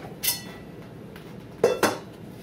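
A metal baking pan of meatballs comes out of the oven with a few short clanks and clinks of metal against the rack and counter, close and brief in a quiet kitchen.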